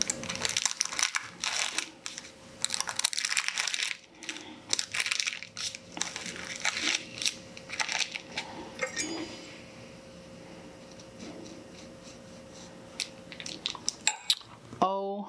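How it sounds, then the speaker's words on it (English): A knife cutting into a keto chocolate chip walnut muffin, a run of soft crunching and crumbly scraping strokes, close up, along with occasional clinks of cutlery on a plate and a person talking in places. "So I'm going to go ahead and cut into one of these and show you guys the inside of the texture"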